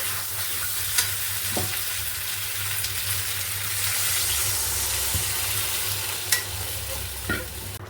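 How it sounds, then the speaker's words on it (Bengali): Jackfruit and potatoes sautéed in a pan with a steady, close sizzle and a low hum, with a few sharp scrapes and taps as the food is stirred. "এঁচোড়া আর আলু দিয়ে কষানো হয়ে গেছে এবার আমি জল দিয়ে দেবো"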